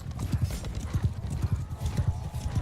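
Heavy horses' hooves clip-clop in steady, galloping rhythm in Mount & Blade II: Bannerlord multiplayer, loud and close, with a faint whinny mixed into the continuous hoofbeats.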